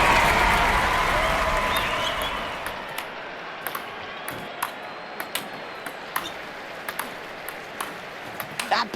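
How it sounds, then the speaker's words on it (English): Applause from a virtual crowd after a badminton rally in the London 2012 video game swells loudly at first, then fades. Sharp shuttlecock pings follow at intervals. "The crowd are really appreciating this now."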